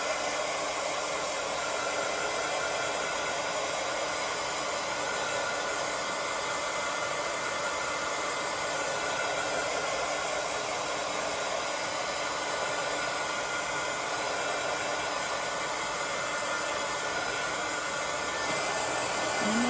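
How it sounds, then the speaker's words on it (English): A hair dryer blows steadily over layered paper craft, a loud, continuous whooshing hum held close for the whole stretch without pause. "So I'm going to just go ahead and dry this."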